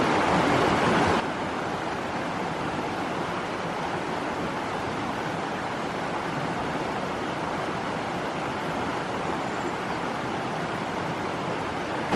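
A river rushes beneath a treehouse as a constant broadband roar, slightly louder in the first second and then holding steady and fairly close without any talking over it.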